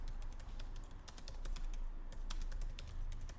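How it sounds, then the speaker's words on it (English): Quick, irregular keystrokes clatter on a computer keyboard at close range, forming a dense, uneven stream of clicks with brief pauses and no talking. "I'm going to type it in now."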